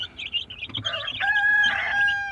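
A hen close by gives a few soft clucks followed by a longer drawn-out call, heard alone against quiet background.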